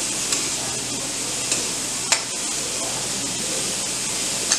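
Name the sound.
capsicum added to a pan and stirred while frying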